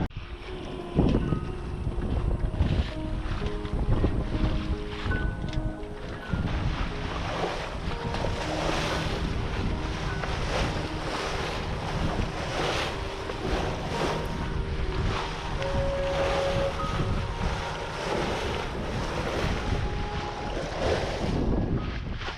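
A 28 ft sailboat driving hard through open sea in 30 knots of wind, with constant rushing water, splashing waves and roaring wind buffeting the microphone, steady and loud throughout with no talk.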